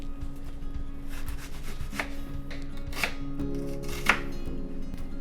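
A knife chops red onion on a board, four or five distinct, evenly spaced knocks over a low background hum, close and clear, with no talking.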